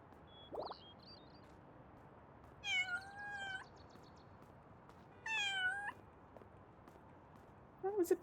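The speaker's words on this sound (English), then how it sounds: "That was a please pet me meow." A cat in the video game Little Kitty, Big City gives several short meows spread across the moment, clear and close over a quiet background, with a faint chirp at the start.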